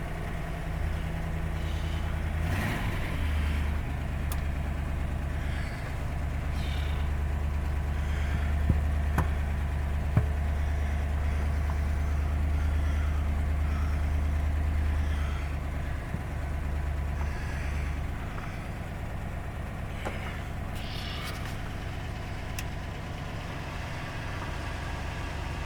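An old carbureted car engine running after a cold start, idling steadily and fairly loud up close with a low continuous drone, then settling to a quieter idle toward the end.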